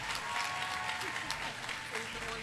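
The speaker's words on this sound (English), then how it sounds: "Rousing applause for Perry." An audience at a university welcome ceremony for new Faculty of Social Sciences undergraduates breaks into steady, moderately loud applause for a student representative.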